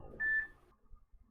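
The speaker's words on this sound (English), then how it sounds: "That was my phone dinging with a notification." A phone notification chime, one short clear electronic ding that rings out alone and fades quickly into quiet.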